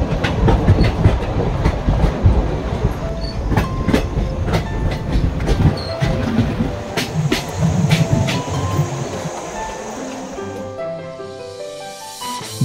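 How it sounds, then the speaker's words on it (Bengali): Kalka–Shimla narrow gauge toy train running, with a steady loud rumble and rhythmic clickety-clack of wheels on rail joints throughout, easing toward the end with a brief tonal squeal. "আমরা কালকা থেকে টয় ট্রেনে উঠলাম।"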